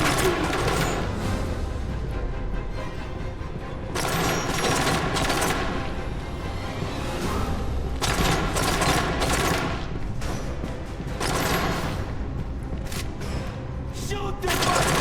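Rapid bursts of automatic gunfire fill a Metro virtual reality shooter, loud and nearly continuous, with heavier thumps and short pauses between volleys while a voice speaks over the shooting.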